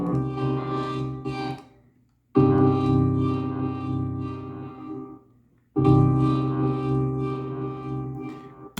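A heavily modulated synth tone from an mmorph plugin plays in two sustained, harmonically rich phrases with a sweeping, wavering timbre, separated by a short silent gap, loud and dry with no voices.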